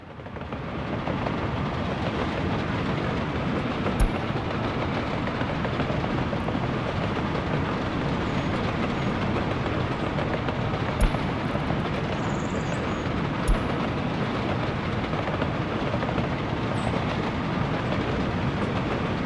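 Steady rolling rumble and clatter of freight trains with wagons running on rail lines in the Soviet-era city-building game Workers & Resources: Soviet Republic, continuous and fairly loud, with a few brief clicks and no speech.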